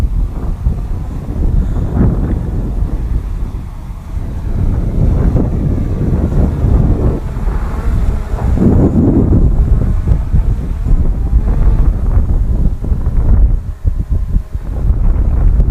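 Strong wind buffets a flying DJI Mavic Mini drone, a loud, constant low roar with gusty surges that swell and ease throughout.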